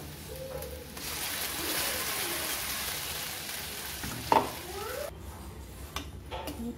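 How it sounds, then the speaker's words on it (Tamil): Ground tomato paste poured into a hot pan for Tamil-style tomato thokku, with a steady broad sizzle and frying crackle throughout, a sharp clank of a utensil midway, then scraping stirring strokes near the end. "அரைச்ச தக்காளி விழுதை இப்போ நான் சேர்க்க"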